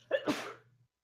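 A single short sneeze, close and clear, with a brief hum trailing behind it.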